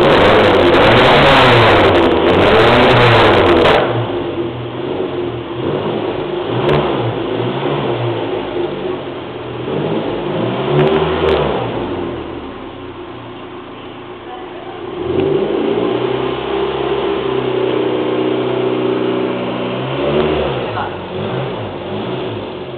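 A car engine revs and accelerates, rising and falling in pitch through several surges, with people talking over it throughout.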